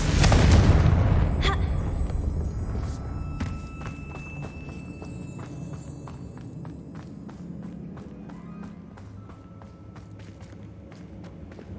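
A loud blasting explosion from the Confringo spell in Hogwarts Legacy hits at the start and decays into a rumbling tail, followed by faint footsteps and scattered small clatters.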